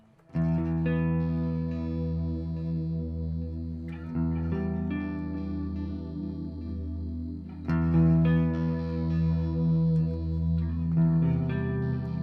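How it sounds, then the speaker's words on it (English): An electric guitar through two delay effects on a Mooer Ocean Machine pedal plays sustained chords and notes, each one echoing and repeating through layered delays into a wide, shimmering wash. "So let's try those two delays by themselves."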